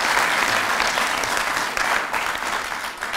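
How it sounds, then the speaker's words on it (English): A lecture audience at an alumni event claps steadily, a dense, even wash of applause that stays loud and sustained without a break and with no voices on top. "that applause is exactly what I wanted to say"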